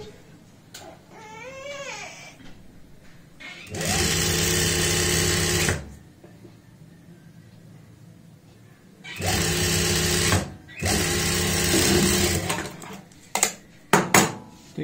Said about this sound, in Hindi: तो ये देखिए हम इस तरीके से सिलाई लगा देते हैं।